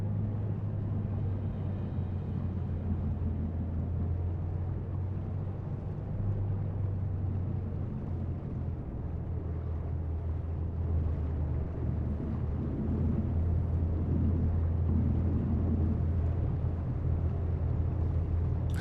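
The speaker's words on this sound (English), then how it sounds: "Can you hear the engine?" A ship's engine running in Seafarer: The Ship Sim, a steady low droning hum with a rumbling throb that holds unchanged throughout.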